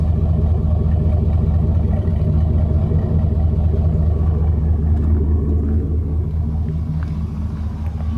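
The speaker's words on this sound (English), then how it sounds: "beautiful sound from this custom exhaust." Steady, deep engine rumble from a 2003 Chevrolet Silverado 2500 WT pickup with a custom exhaust, a loud, close low drone holding evenly throughout with no voices over it.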